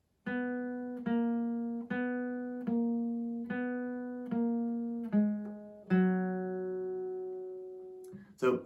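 Slow electric or acoustic guitar riff from a song, a run of evenly spaced plucked single notes that ring and decay, close and clear with no voice over it, ending on a longer sustained note.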